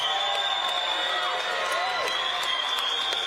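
A boxing crowd cheers and applauds for Maxi Hughes after his fight with George Kambosos Jr, a loud, continuous roar of voices and clapping with no pause.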